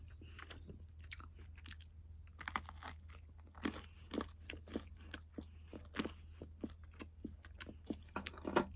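Cooked hazel catkins eaten with cream are chewed close up, giving a steady run of soft wet crunches and bites over a low constant hum, with no talking.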